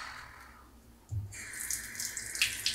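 A kitchen tap opens and water streams into a sink to rinse plastic containers, a soft trickle jumping to a steady close splashing flow.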